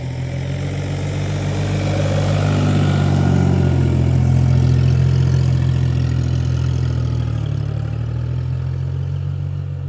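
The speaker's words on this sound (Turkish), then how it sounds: "traktör ufak olduğu için zorlanıyor" A small New Holland TT50 tractor engine labours under load while raking, its low rumble swelling and straining steadily throughout, close and loud, with no talking.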